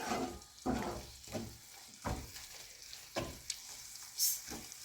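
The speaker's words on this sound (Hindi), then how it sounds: "इसको मिक्स करेंगे और अब मसालों को हल्का सा भूनेंगे।" Spices mixed with coriander powder are frying gently in a pan over a medium flame for a Lahori fish masala curry. A faint, steady sizzle carries a few soft spoon scrapes at irregular intervals, with no one talking.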